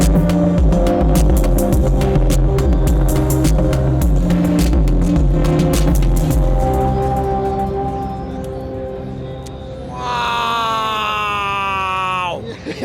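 An Elektron Digitone FM synthesizer is played through its master overdrive, giving dense, gritty, distorted tones and pulsing chords, then a bright gliding sweep of stacked harmonics near the end, loud and continuous at a trade show.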